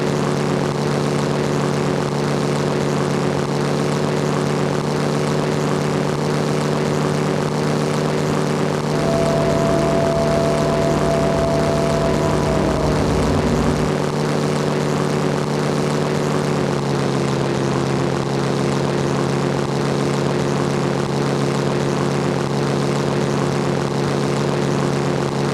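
A Heinkel He 72 biplane propeller engine droning steadily through a flight-sim training sortie, loud and constant with a dense low rumble and a slight pitch shift midway, no voices.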